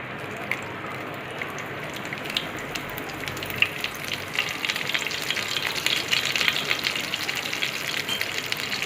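Mustard seeds and curry leaves crackling in hot oil for Konkani-style stuffed brinjal, a continuous close sizzle with scattered sharp pops that grows a little busier over time.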